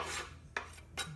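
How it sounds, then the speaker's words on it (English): Chopped onions scraped off a board into a cooking pot, heard as two short, close rasping scrapes with a scuffing rub at the start. "you're going to take your onions and you're just going to scrape them off"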